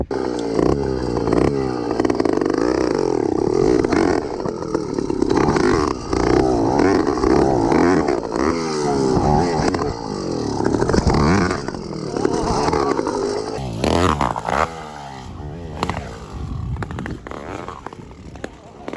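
A motorised bicycle engine revving hard during a riding session, a loud buzzing two-stroke whine that rises and falls continuously close to the microphone, with a rider talking over it.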